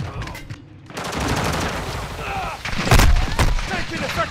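Gunfire in a military shooter video game, with dense bursts of shots and a louder cluster near the end, mixed under game voice callouts.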